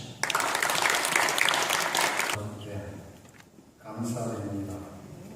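A church congregation gives a short burst of applause for an elder at an early morning prayer meeting in Incheon, the clapping dense for about two seconds before fading into someone speaking.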